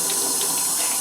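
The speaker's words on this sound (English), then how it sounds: "the water's been running to where it's extra hot" Extra-hot water runs steadily from a tap in a utility room, a constant hissing splash close by with no talk.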